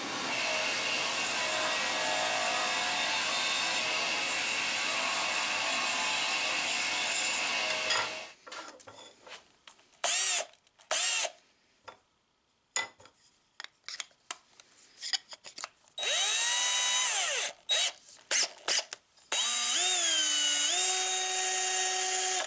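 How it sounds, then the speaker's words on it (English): A loud, steady sanding whir runs for several seconds, then stops into intermittent scraping and short bursts as the end of a wooden dowel is pressed against the spinning sander. "sharpen one of these ends on the sander"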